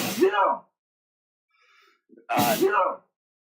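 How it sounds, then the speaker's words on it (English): Two loud sneezes burst out close by around a tabletop role-playing game, separated by near silence with a faint breath or gasp between them. "who the hell just sneezed"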